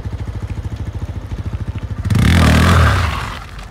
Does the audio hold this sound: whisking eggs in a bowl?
no